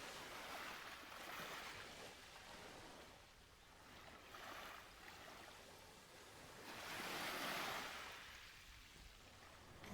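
Ocean waves wash onto a calm shoreline in slow, broad surges, each swell rising to a soft rushing peak and then receding, the strongest near the end, with no voices.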